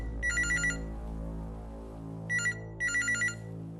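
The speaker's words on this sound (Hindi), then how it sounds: "सुल्तान का फोन" A telephone ringtone sounds in three bursts of rapid, trilling electronic rings, the first and last bursts longer with a short one between, clear and fairly close over a low background hum at a police control room.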